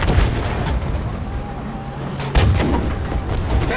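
Gunfire and artillery in the video game Battlefield V, heavy booming blasts with a loud sharp report near the middle over a dense rumbling battlefield background.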